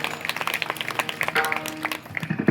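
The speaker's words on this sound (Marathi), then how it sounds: "या पोरांसाठी जोरदार टाळ्या झाल्या पाहिजे." An audience applauds a group of children at a devotional kirtan gathering during a village Harinam Saptah, with steady clapping running throughout and a brief lull near the end.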